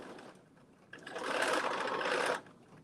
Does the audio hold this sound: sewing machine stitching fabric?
yes